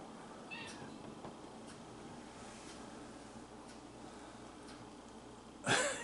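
A domestic cat gives a single short meow at the end, after a stretch of quiet indoor room tone with a faint hum.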